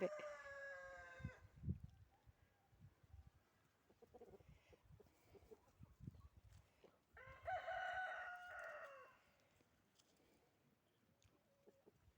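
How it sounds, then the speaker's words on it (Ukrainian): Roosters crow twice, one loud call at the start and another a few seconds later, with quieter rustling and distant bird sounds between them. "Півні співають, співають. Петухи співають."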